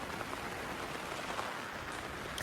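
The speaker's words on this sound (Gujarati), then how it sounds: "વરસાદ ચાલુ છે અવાજ આવે તમને" Rain falls steadily on a camp at night, a soft, even wash of pattering that stays faint and unbroken throughout, with no voices.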